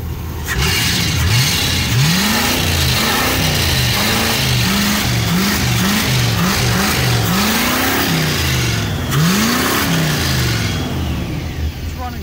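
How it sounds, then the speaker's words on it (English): A 1987 Cadillac 5.0 V8 revs repeatedly from idle, its engine note climbing and falling in a string of sharp bursts, loud and close with a steady rumble between them. "Rev it up!"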